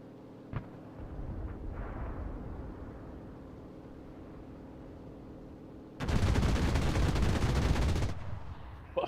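Sustained burst of 30mm cannon fire in a video game, a loud dense roar of rapid shots lasting about two seconds after a quieter stretch of background engine drone.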